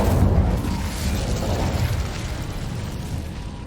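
A fiery Incendio spell blast in Hogwarts Legacy lets out a loud, rumbling burst that slowly fades over a few seconds, with no voices.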